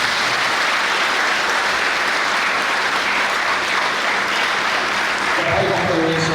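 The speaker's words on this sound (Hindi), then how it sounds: "तो एक खुशी के अवसर में हमें मन ताली देंगे" A church congregation applauds at a ceremony for a new Vicar General, steady dense clapping throughout, loud and even, with a brief shift in the final second.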